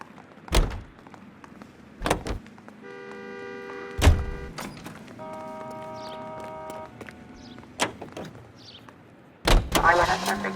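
A car engine in the video game L.A. Noire hums steadily while sharp door thumps and slams punctuate it at intervals, ending in a louder engine burst.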